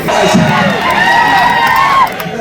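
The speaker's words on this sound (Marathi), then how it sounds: "आज सांगता सभेला झालेली ही गर्दी" A large crowd cheers and shouts at a political rally in Sangamner, a loud continuous roar with whoops rising above it, easing slightly near the end.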